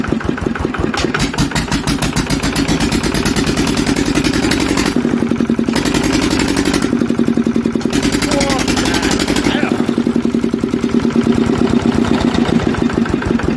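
An SL1 Startomatic engine turns over and runs with a steady, loud, rapid mechanical chugging and clatter close by, while people talk over it.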